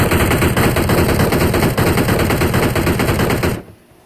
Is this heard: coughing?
no